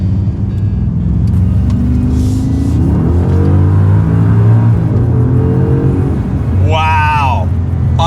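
Maserati Ghibli Trofeo with a Ferrari-built engine accelerating hard, a steady deep rumble rising in pitch through the gears, fairly subdued and heard from inside the car, with a person speaking briefly near the end.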